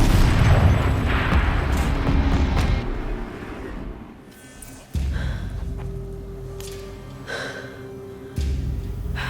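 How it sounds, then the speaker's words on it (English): Heavy turret cannon fire in the video game Horizon Zero Dawn: loud, rumbling booms, with sharp fresh blasts near the start, around five seconds and again near nine seconds over a continuous low roar. "Rotate turret! And fire!"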